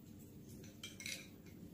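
A spoon stirs soaked ingredients for a cooling summer drink in a vessel, giving soft scraping and a few light clinks against the sides, close and quiet, with no talk.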